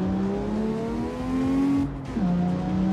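Lamborghini Diablo engine in the PC racing game CarX Street, revving upward through the gears at full throttle with a steady rising tone, a brief shift dip, then pulling hard again, loud and close.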